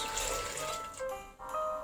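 Water pours into a cooking pot of beans, a short steady gush and splash heard close by with no talking.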